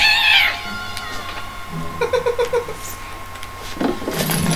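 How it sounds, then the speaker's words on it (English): A cat meows in the South Park video game as it is kicked, with a sharp cry at the start followed by a short run of brief mewing calls, heard fairly close over a steady game background hum. "Kick the kitty."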